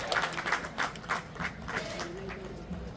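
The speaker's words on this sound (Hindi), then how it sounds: "इनके लिए तालियां बजाएं" Audience applause at a public gathering in Ahmedabad, with a burst of clapping fading through the clip while a faint voice and background murmur continue.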